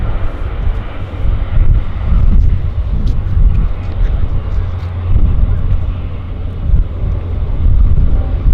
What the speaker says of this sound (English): we've got a 787 coming out